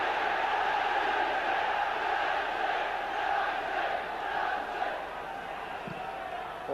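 A large all-ticket football stadium crowd of around 44,000 at Manchester United versus Liverpool keeps up a steady, dense roar and murmur throughout, with no single voice standing out.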